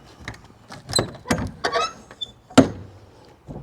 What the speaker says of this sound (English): let me just open up the doors